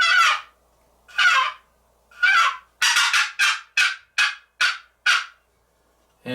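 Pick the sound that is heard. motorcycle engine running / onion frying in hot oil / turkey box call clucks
turkey box call clucks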